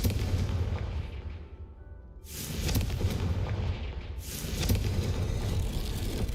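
Fire-spell blasts in the video game Hogwarts Legacy: two loud, roaring bursts of booming noise follow a brief lull, each swelling into sustained rumbling crackle with no voices.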